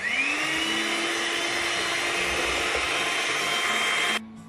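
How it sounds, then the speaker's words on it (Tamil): Electric hand mixer beating eggs and sugar in a bowl for a no-oven banana cake, a loud steady whir running for about four seconds before cutting off abruptly. "இப்போ இதையும் நல்லா பீட் பண்ணிக்கலாம்."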